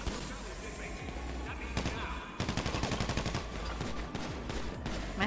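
Gunfire in the GTA V video game: a rapid volley of loud, close shots after a brief lull, then steady repeated bursts against a busy game background.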